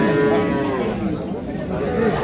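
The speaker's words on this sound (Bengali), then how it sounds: "যে হাটে গরুগুলো রয়েছে, আমরা সেই গরুগুলোর তথ্য আপনাদের দিচ্ছি।" Dairy cattle at a rural livestock market, including Sahiwal, Sindhi and local breeds, give a loud, close, sustained moo that drones continuously with a deep resonant tone.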